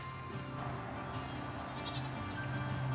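Several Kinder goats bleat over one another, wavering cries overlapping continuously against a busy outdoor background.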